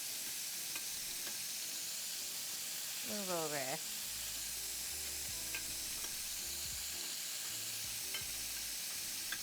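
Quiet, steady sizzle of food frying in a pan while beef rouladen, spelt spaetzle and braised garden greens are cooked, with occasional stirring clinks, a brief whistly squeak, and a voice speaking briefly.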